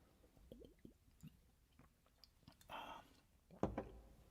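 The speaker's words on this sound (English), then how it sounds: "Pardon me while I refresh myself with some water." Water drunk during a livestream concert pause: soft gulps and a wet squish of swallowing, with faint drips and a brief liquid slosh near the end, close and quiet with no talking.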